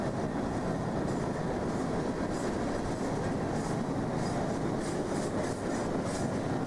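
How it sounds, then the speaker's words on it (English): A Bessemer and Lake Erie Railroad (CN) freight train rolls past close by, a continuous heavy rumble with rhythmic wheel clatter over rail joints and occasional faint squeals, steady throughout. "While this train goes by"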